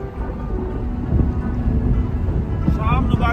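Gusty outdoor wind in Islamabad buffets the microphone with a continuous low rumble, swelling and easing across a few seconds, with a faint voice briefly audible near the end.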